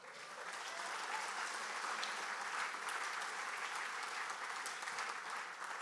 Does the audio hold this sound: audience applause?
yes